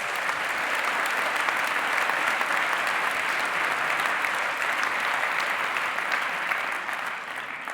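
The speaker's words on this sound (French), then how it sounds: "On peut l'applaudir, s'il vous plaît." A seated audience at the Prix SVC Genève 2025 award ceremony gives sustained, even applause, a dense wash of clapping that holds steady for several seconds before easing slightly at the end.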